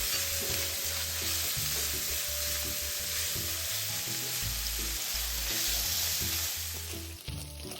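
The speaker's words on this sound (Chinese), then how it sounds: "再將150克切成條狀的五花肉加入，轉低火，將五香肉煸香，一直煸至五花肉表面微焦" Sliced pork belly strips with shallots stir-fried over low heat in a wok, a continuous close sizzle with rhythmic scraping and stirring strokes of the spatula, no voices.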